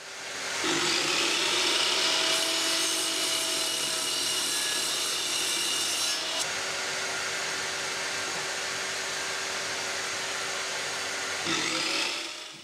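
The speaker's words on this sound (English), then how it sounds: "I use a meter saw, with my table saw sliding fence as a stop block, to cut all four pieces right to the same length." A miter saw crosscuts pallet wood boards for planter legs, a loud close motor whine with the blade biting through wood in one long cut, then spinning down.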